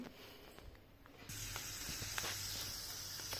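Onions frying in a pan for a Marathi-style peas and mint pulao, a steady broadband sizzle and hiss that starts abruptly partway through and continues near and fairly loud, with faint background noises and no talk.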